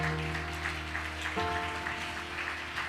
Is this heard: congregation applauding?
yes